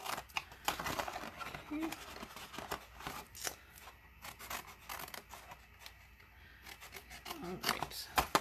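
Scissors snipping notches into a paper cupcake box, a series of brief crisp cuts and paper rustles scattered through the clip under a woman's quiet speech.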